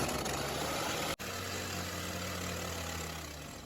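A chainsaw idles steadily at close range while its idle screw is adjusted, giving a constant low engine drone with one brief dropout before it settles and fades slightly; no talking.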